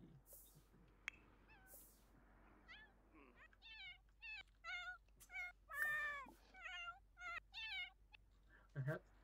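A pet cat at home meows repeatedly, a string of short rising calls spaced a second or so apart, fairly close, with a few quieter sounds before the meowing starts.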